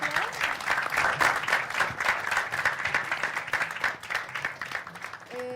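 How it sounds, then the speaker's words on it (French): An audience of students applauding at a film screening and debate, a lively burst of many hands clapping indoors that fades after several seconds, followed by a brief voice. "Applaudissez pour vous, s'il vous plaît."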